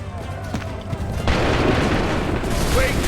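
A musket volley erupts in Assassin's Creed III, a sudden loud burst of massed gunfire after a brief lull, followed by a sustained rumbling roar with faint voices beneath.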